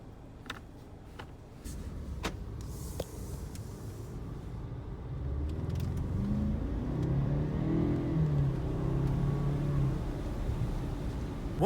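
Jaguar F-Type car pulling away on a drive, engine note rising as it accelerates from a quiet start into a steady, building rumble heard from inside the cabin, with a few small clicks early on.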